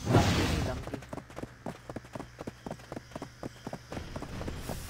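A horse ridden in a video game clip-clops in a steady, fast rhythm of crisp hoof strikes, close and moderately loud, after a brief burst of noise at the start.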